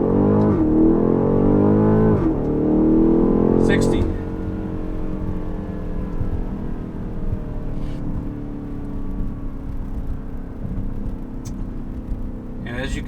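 A 2020 BMW X5 M50i pulls away hard from a standstill in sport mode, its engine loud and climbing through rising gear sweeps before settling into a steady cruising drone.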